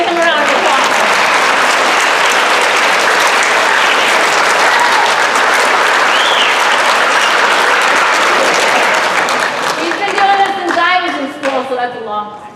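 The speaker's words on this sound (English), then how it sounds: "Give him a round of applause." Sustained, dense applause from an audience fills a school auditorium, steady and loud throughout before fading into a few scattered claps and a voice at the end.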